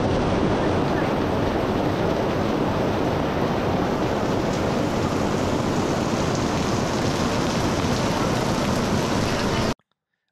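Heavy rain on the Camino Primitivo in Asturias and Galicia, a dense, steady roar of downpour with some wind buffeting the microphone, loud and unbroken until it cuts off abruptly near the end.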